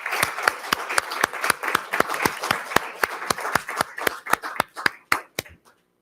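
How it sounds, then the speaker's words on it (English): A small crowd applauding retirees at a school board meeting, with sharp, evenly spaced claps that sound like only a few pairs of hands, steady for several seconds and then thinning out and stopping. "a round of applause for all of our retirees"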